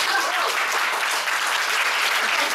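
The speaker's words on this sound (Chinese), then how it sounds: "请你们给我拍拍手。" A seated audience at an evening public talk in Taichung breaks into steady, loud applause that fills the room evenly throughout.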